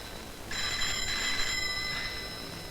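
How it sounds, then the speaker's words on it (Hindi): A telephone rings indoors in a single electronic ring lasting about two seconds, clear and moderately loud, with no talk over it. "किसी संजना रॉय का फोन है"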